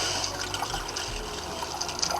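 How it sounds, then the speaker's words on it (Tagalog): Water pours into a casserole on a stove for making brown-sugar caramel, a soft continuous splashing trickle at low volume. "Una-una lalagay natin yung tubig."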